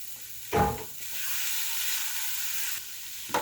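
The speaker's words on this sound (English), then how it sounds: "Now I have one onion here that I have thinly sliced. I'm going to fry these up." Thinly sliced onion sizzles and fries in a pan as a steady hiss, with a louder crackling burst near the start when the slices go in and a brief stir toward the end.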